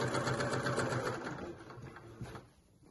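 A sewing machine runs a steady straight stitch around a pyjama waistband channel, giving a close, even, fast mechanical whir that slows and fades toward the end.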